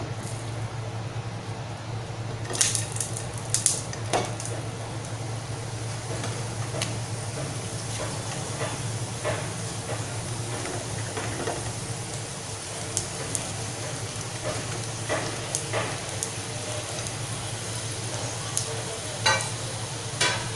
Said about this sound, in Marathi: आता जी सर्व हाफ फ्राय केलेली रोडगे आहेत ते आपण परत या पॅनमध्ये टाकूया